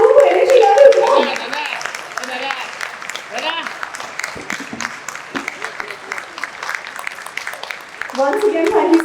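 Audience applause fills an Indian design confluence and showcase hall in Thane, loud dense clapping throughout, thinning slightly mid-stretch before swelling again, with a few voices mixed in.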